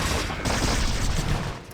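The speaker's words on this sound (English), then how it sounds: "The photon cannon actually attacked my unit." Photon cannon firing on a unit in a real-time strategy game, a dense continuous burst of blasts and impacts lasting under two seconds with no pauses, loud throughout.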